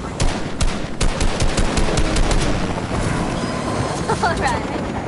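Video game gunfire rattles in rapid bursts, loud and close, with dense repeated shots over a busy background and faint voices mixed in.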